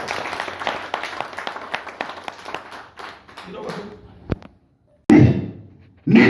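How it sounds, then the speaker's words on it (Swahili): A church congregation clapping for the Lord during a sermon by Pastor Raphael N. Mwikya, a dense burst of many hands applauding that then fades out, followed by a silent gap and loud preaching. "Tupigie Bwana makofi."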